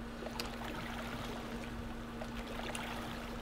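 River water flows around a raft in the survival game The Flame in the Flood, a faint, steady rushing and trickling wash with soft splashes and a low constant hum beneath, with no talking.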